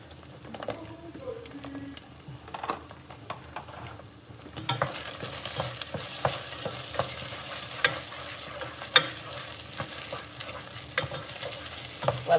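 Marinara sauce with rosemary sizzles and pops in a pan, a steady frying crackle that grows louder partway through, with sharp pops scattered over a continuous hiss and faint stirring; no one speaks.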